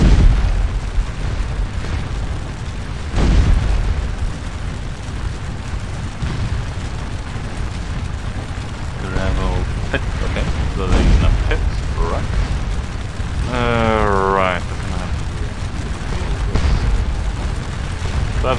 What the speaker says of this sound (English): These guys are shooting canister